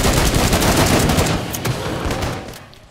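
Loud, dense bursts of gunfire from the video game Killing Floor 2 fire at enemies in rapid succession, shots overlapping into a continuous barrage before tapering off at the end.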